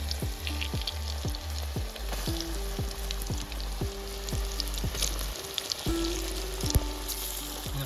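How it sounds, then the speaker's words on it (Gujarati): Steamed gram-flour dhokla pieces dropped into hot oil tempered with mustard seeds and curry leaves sizzle and crackle steadily up close, with continuous frying hiss and a low background hum. "ત્યારબાદ આપણે ઢોકળા નાખવાના છે તેલમાં"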